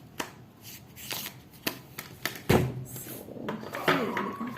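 Oracle cards being shuffled and drawn by hand, a run of close, crisp card flicks and soft riffling taps at an uneven rhythm with no talking.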